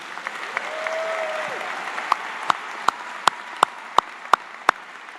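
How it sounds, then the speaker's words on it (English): At a university commencement, a broad soft patter of a graduating class's applause rises, with a voice briefly heard over it, then a string of sharp, evenly spaced single claps stands out close by. "Give yourself a hand of applause"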